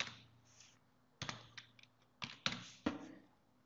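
Search filter being typed on a computer keyboard: a handful of close, crisp keystrokes in irregular clusters with short pauses between them, no voices.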